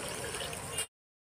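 Water is poured while plum (kul) pickle is being made, a short steady splashing stream lasting under a second before it stops abruptly.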